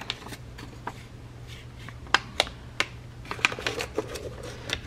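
Scored vellum paper being creased and folded by hand for library card pockets, a run of sharp crisp crackles and taps, some close and loud, scattered irregularly over a faint steady hum.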